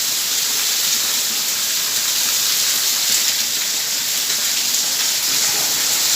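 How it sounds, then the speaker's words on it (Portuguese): Heavy rain pours down steadily in a rural town, a dense continuous hiss with no break. "olha só a chuva que tá caindo aqui agora"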